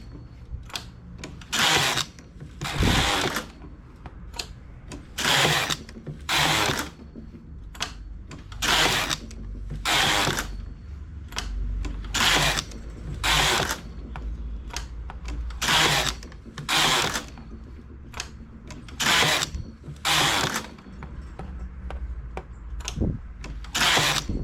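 A knitting machine carriage is pushed back and forth, knitting rows of a seamless sock, making regular rasping swooshes, roughly one every second or so, loud and near, with no talk.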